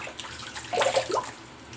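Cold water running briefly into a bathroom sink, a short soft splash and trickle swelling for about half a second before fading.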